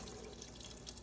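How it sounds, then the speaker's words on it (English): Water pours out of a ramen bowl in a steady, hissing splash, close and continuous for about a second. "we're gonna dump out the water"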